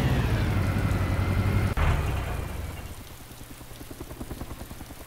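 Helicopter in the video game DayZ Epoch, a steady low rotor drone with a loud mid-clip impact, then fading to a softer rhythmic chopping pulse, with no talk.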